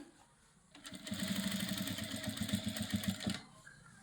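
An electric sewing machine stitches piping onto a blouse in one continuous fast burst of rapid rhythmic needle clatter lasting a few seconds, close up, between quiet pauses.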